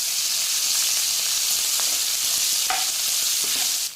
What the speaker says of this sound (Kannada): ಇವಾಗ ಈರುಳ್ಳಿ ಹಾಕಿದಾದ್ಮೇಲೆ ಒಂದ್ಸತಿ ಚೆನ್ನಾಗಿ ಫ್ರೈ ಮಾಡ್ಕೊಳ್ಳಿ.